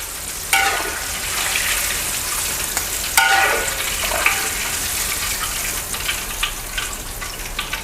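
Steady crackling sizzle of sea bass deep-frying in hot oil, with a few sharper clatters of a utensil in the pan, close and constant.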